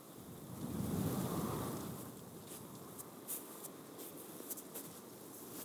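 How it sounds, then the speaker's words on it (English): Strong wind blows across an outdoor disc golf tournament course as a steady, rushing roar that swells early and then carries on with small gusts and brief buffeting clicks on the microphone. "Still very windy."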